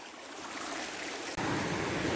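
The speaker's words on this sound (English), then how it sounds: "I'm gonna follow this down to the where it runs into the bigger creek" Creek water flowing in a wooded area, a continuous close rushing wash that grows fuller and louder partway through.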